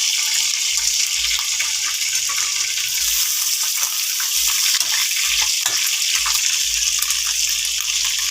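Fish frying in a pan, a steady, loud hiss and crackle of hot oil that holds unbroken throughout with no voices.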